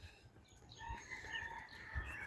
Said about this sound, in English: Listen to them roosters.